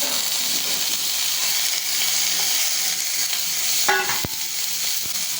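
Ground poppy seed paste sizzles and fries in hot oil in a pan while making Bengali onion posto, a steady broadband hiss throughout with a brief stir and clatter near the end.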